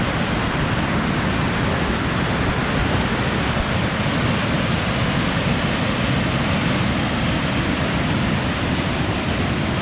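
Rushing rapids on a fast, turbulent river in Quebec roar as a dense, unbroken wash of water noise, loud and close with no other sounds.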